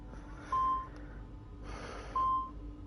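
Two clean, moderately loud electronic beeps, roughly a second and a half apart, chime as a proximity alert in the Assassin's Creed 2 video game over a quiet, hissy background.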